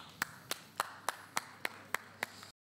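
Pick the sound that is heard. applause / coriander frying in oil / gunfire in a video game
applause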